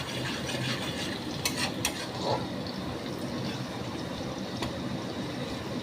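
Onions frying in a pan for a Bengali egg curry with green peas, a steady soft sizzle and crackle running throughout with a few brief clinks, fairly quiet and with no talk.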